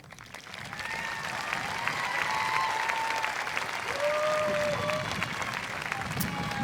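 A graduation ceremony audience claps in sustained, dense applause that swells over the first second and holds steady, filling a large hall with a continuous wash of hands and faint crowd noise.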